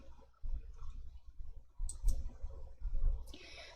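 A few sharp computer mouse clicks while selecting a spreadsheet cell and pasting in Excel, spaced out over a few seconds with light broadband noise and two brighter high clicks near the end.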